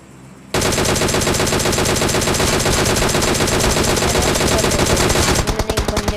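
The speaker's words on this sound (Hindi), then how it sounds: "वो बंदा उससे कवर फायर दे रहा था" Dense automatic gunfire from a battle royale video game, loud and continuous bursts rattling nonstop for several seconds before easing slightly near the end, with no talk over it.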